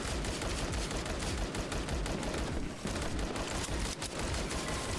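Steady, dense video-game gunfire from a butt gun in a silly roguelike, with rapid overlapping shots in paired bursts running continuously and loud, briefly thinning for a moment midway.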